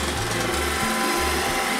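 Roomba robot vacuum running over a home floor, a steady close whirring motor hum with low pitch shifts as it moves and bumps along, continuous for the whole stretch with no voices.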